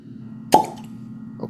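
A cork pulls free from a bottle of Peerless Double Oak bourbon with one crisp, close pop, followed by a faint small knock a moment later.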